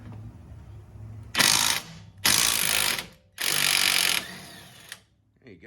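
Three bursts of a power tool spinning off a sway bar link nut on a 2013 Ford Explorer during strut replacement, each loud and whirring for about a second, with a low idle hum and short quiet gaps between.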